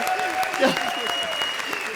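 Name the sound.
audience applause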